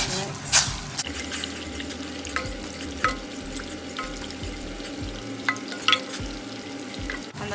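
A salt and sugar marinade for escovitch fish is mixed in a bowl, giving soft scraping and swishing strokes with a few sharper clinks over a steady low kitchen hum.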